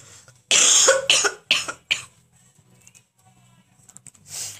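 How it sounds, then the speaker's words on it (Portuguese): A person with a lingering cough after a cold coughs at close range in several loud, rough bursts clustered over about two seconds, then goes quiet apart from faint rustling and a final short breathy sound. "Resfriado já foi, a tosse fica, a tosse que tá me incomodando."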